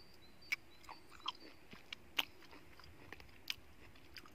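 Cherries being eaten, with soft crunchy bites and chewing that recur at uneven intervals against a quiet, close background.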